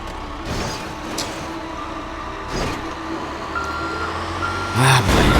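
A garbage truck in the GTA 5 video game backs up with a series of repeated electronic reversing beeps over a low engine and traffic rumble.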